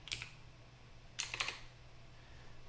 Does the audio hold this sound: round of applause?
no